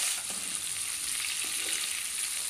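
Prawns fry in a pan with a steady, close hiss and sizzle that runs throughout, with faint stirring knocks and no voices.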